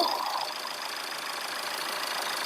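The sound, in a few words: diesel car engine idling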